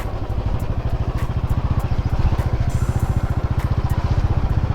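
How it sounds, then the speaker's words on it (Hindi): Motorcycle riding along a hill road, its engine giving a steady, rapid throbbing pulse that stays close and loud for the whole stretch, with no voices. "बाइक जा रही है।"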